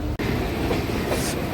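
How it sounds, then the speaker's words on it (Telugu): The Andaman Express, running from Shri Mata Vaishno Devi Katra to Chennai Central, rolls past on the rails with a loud, close, continuous rumble and rattle of wagons that drops out for an instant near the start. "అండమాన్ ఎక్స్ప్రెస్ ట్రైన్ అండి అది."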